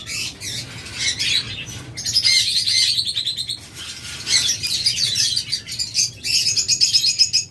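Flock of caged lovebirds and cockatiels, dense overlapping chirps and squawks close by, continuous and busy over a low background hum.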